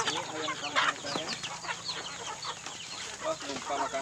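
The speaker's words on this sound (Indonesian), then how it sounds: "Ini ayam kampung saya." Free-range village chickens cluck and chatter in a backyard coop in Samarinda, several birds calling irregularly at close to middle distance over a faint background hum.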